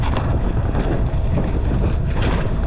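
Strong wind buffets a sailboat at sea, a loud continuous low roar with gusty microphone rumble throughout and no voices.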